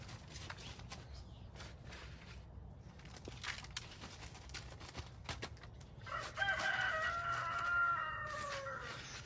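Chickens cluck and scratch about nearby, then a rooster crows loudly partway through, its long call standing out over the clucking.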